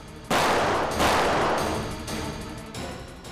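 Several bursts of gunfire in quick succession, loud and close, with the blasts overlapping into a sustained rumbling roar.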